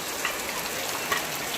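Steady rain falling close by, a dense hiss with scattered droplets pattering on a hard surface, no voices.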